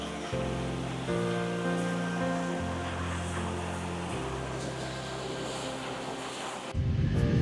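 The Divine Mercy Fountain, an outdoor fountain at a roadside stop along Route 66 east of Amarillo, gives off a steady, loud rush of falling and splashing water, with faint tonal hums underneath and no talking.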